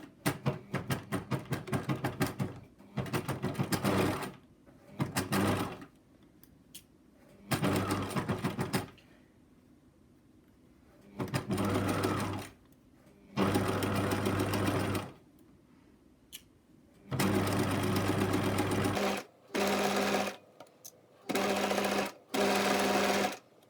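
Sewing machine stitching bias binding onto fabric edges, loud close bursts of rapid mechanical whirring in about ten separate runs of varying length, with quiet gaps between them.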